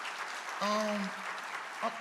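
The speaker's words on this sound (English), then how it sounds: "let's give the staff that are working for Philadelphia International Airport a real big round of applause" An audience at an airport event in Philadelphia claps for the airport staff, brief, moderately loud applause with a voice speaking over it.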